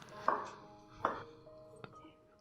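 A knife chops bitter melon on a board, three separate quiet thuds spaced about a second apart, close and otherwise calm.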